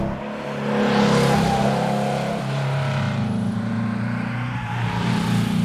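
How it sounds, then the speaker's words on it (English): A sports car engine roars continuously at high revs, a dense sustained howl with slight rises and falls, loud and up close. "Get some revs on board, get this engine on cam, and the Carrera GT comes alive."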